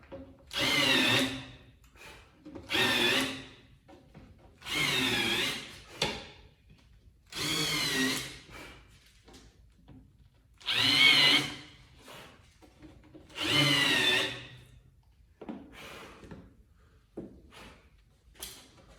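Power drill bores into wooden furniture niche panels in a series of about seven separate whirring bursts, each lasting one to two seconds with short quiet gaps between, close and clear with no talking.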